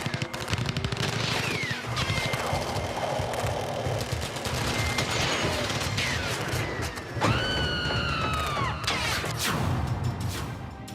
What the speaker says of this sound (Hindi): 2006 में फिर गोलियों की तड़तड़ाहट सुनाई देने लगी